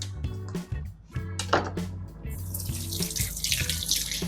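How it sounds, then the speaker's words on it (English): Scallion, thyme and ginger rinsed under a running kitchen tap, with water splashing steadily into the sink throughout and brief handling knocks near the start, no voices. "So we're going to wash."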